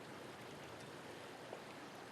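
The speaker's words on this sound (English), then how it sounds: "you can hear the water running" Water running in an outdoor stream makes a soft, steady, distant rush that stays faint and unbroken throughout, with no voices.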